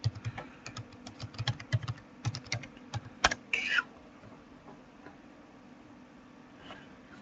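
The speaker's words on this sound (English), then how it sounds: "I'll type in something now" Quick, uneven bursts of keystrokes on a computer keyboard, clicking close and crisp for a few seconds, then near-silence.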